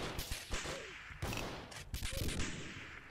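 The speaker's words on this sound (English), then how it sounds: "this shotgun doesn't shoot as fast as the last update" Shotgun blasts in a Roblox shooter, several sharp booming shots spaced irregularly across a few seconds, fairly faint and close together with brief echoing tails.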